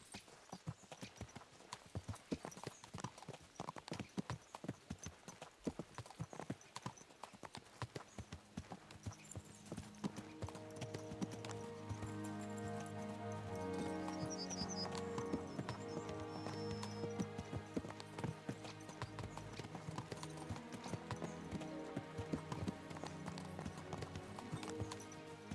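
Horses' hooves clip-clop steadily in Kingdom Come Deliverance 2 as riders travel at pace. The rhythmic hoofbeats continue throughout, and a musical score rises beneath them partway through.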